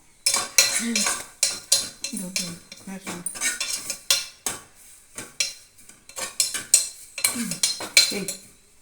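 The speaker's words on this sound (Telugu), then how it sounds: "నెయ్యి, ఇప్పుడు జీలకర్ర వేసుకున్నాం." Cumin seeds dropped into hot ghee in a pan on the stove, heard as a run of close metallic clinks and spoon scrapes against the pan over a light sizzle, with no talk.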